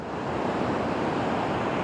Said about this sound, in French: le calme assourdissant des vagues